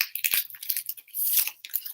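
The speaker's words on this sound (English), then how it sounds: "it's the sound of the packs opening" Card packs are torn open in a quick burst of crisp, crinkly ripping and rustling foil, several short tears close up within two seconds, with no voices.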